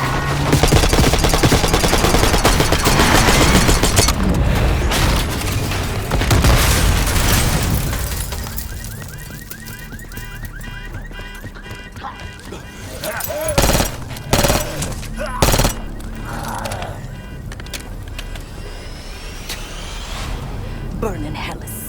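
Loud, sustained automatic gunfire and booming shots in Call of Duty Black Ops 6, dense at first and then thinning to scattered bursts, with voices shouting over the combat.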